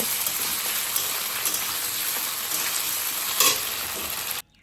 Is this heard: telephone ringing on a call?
no